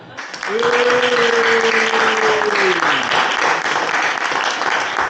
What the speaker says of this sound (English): we shall have a round of applause for Dan in absentia